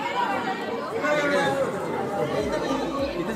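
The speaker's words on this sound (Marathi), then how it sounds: "सगळीकडे आज गर्दी" A dense crowd chatters at Mumbai's Rani Baug zoo, many overlapping voices forming a steady close murmur with no single sound standing out, and nearby people talking within it.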